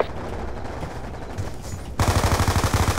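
Automatic gunfire rattles in Call of Duty Black Ops 2, a loud, steady run of rapid shots kicking in sharply after a couple of seconds of muffled battle noise.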